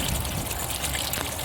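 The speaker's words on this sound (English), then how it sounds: "It takes forever to put water in the pool" Water runs steadily into a backyard pool being refilled after winter, a continuous close rushing trickle with no voices over it.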